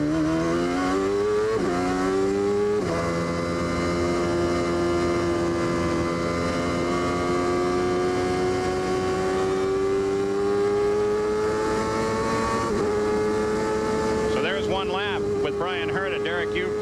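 Indy cars at Road America during a 1995 CART round at Elkhart Lake, engines screaming loud and continuous as they accelerate down a straightaway, pitch climbing and shifting with gear changes, with commentary voices over the engine noise.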